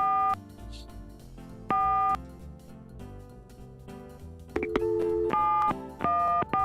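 Synthesized telephone keypad tones from the Gabriel Knight: Sins of the Father adventure game: clusters of clear, loud dialing beeps with short gaps between them, and a busier burst of rapid tones toward the end.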